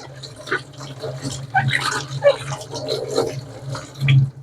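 Tap water runs over a vacuum cleaner filter being rinsed in a sink, a steady close splashing stream with a voice murmuring faintly over it.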